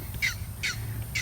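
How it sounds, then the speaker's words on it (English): An egret on a homestead farm gives three harsh, croaking calls, evenly spaced about half a second apart, fairly faint over low background rumble. "It's an egret."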